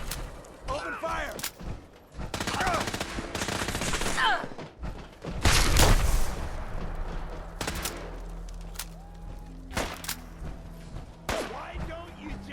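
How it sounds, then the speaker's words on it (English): Gunfire in the video game Fallout 4, with bursts of rapid shots and heavy booms during a firefight, mixed with speech and other game sounds. "Open fire!"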